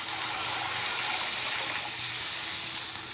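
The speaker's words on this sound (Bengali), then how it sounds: "এবার দিয়ে দেবো আমি পরিমাণ মতো জল।" Water pours into a pan of frying spices for a Bengali fish curry, a steady, close gushing hiss with a faint sizzle underneath and no talking.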